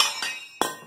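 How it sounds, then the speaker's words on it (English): Punch and hammer striking out the center of a steel wheel rim, two sharp metallic clinks with a bright ringing decay, close and loud. "I'll just take punch and hammer, pop it through."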